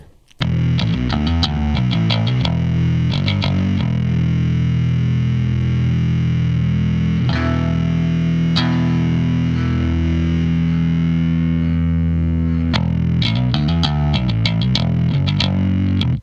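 A heavily distorted bass guitar played through a distortion pedal plays loud, gritty riffs with a fuzzy sustained stretch in the middle, no voices.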